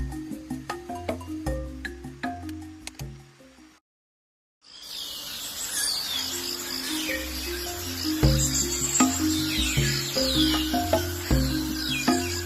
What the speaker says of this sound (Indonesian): Kicau burung sudah mulai ramai terdengar.